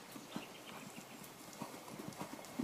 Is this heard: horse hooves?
yes